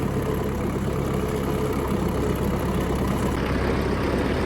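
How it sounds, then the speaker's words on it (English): A farm tractor's engine idles in a steady, even rumble, close and continuous, with no change in pace. "We're going to take this tractor and rake to the next farm."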